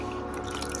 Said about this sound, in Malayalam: ഇതാ വെള്ളത്തിലിടുന്നുണ്ട്